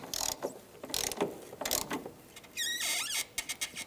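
Ratchet snugging down the battery hold-down bolt on a 2012-2017 Hyundai Accent, with several short bursts of clicking pawl and metal mechanism sounds, close up and fairly quiet.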